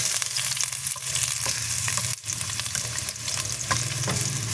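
Onion and garlic frying in a pan, a steady loud sizzle with occasional scraping stirs, close up and without talk.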